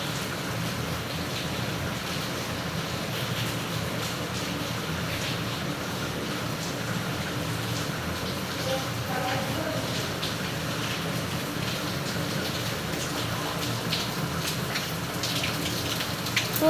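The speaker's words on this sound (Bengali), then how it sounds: "আজকে কয়েকদিন ধরে একটানা বৃষ্টি হচ্ছে, প্রচুর বৃষ্টি হচ্ছে" Heavy, continuous monsoon rain pours down in Noakhali, a dense, even roar of falling water that holds steady throughout with no pauses.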